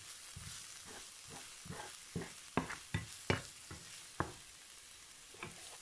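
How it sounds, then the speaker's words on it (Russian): Soup seasoned with khmeli-suneli spice being stirred in a pot, a steady series of soft scraping strokes with a few sharper spoon knocks against the side, close by, with no talking. "И перемешиваем."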